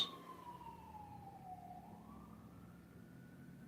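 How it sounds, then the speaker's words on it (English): An emergency siren wails outside in the distance, one long falling and rising tone over a low steady rumble of traffic, faint and without any talking. "You hear all the sirens outside?"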